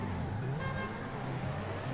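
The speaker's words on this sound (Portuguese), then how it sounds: "Os caras ficam buzinando perto de mim, maluco." Car horns honking during a desert race in GTA 5, with horn toots over a steady engine and road rumble, and a voice talking over it.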